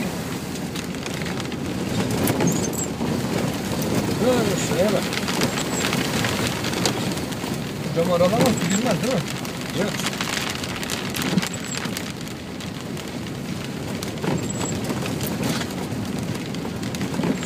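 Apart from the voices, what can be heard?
rain falling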